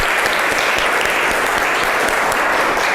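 Dense applause from a classroom audience, steady and continuous throughout with no pauses.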